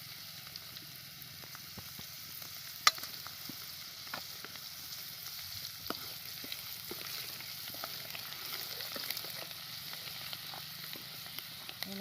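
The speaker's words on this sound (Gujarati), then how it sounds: "આ લસણ ફોલ્યું છે એ લસણની કળી નાખી દેવાની છે" Garlic cloves fry in oil with turmeric while cooking tandalja bhaji, giving a steady soft sizzle throughout with a few faint clicks of stirring, fairly quiet and close, no talking.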